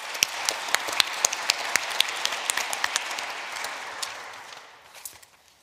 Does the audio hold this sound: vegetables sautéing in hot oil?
no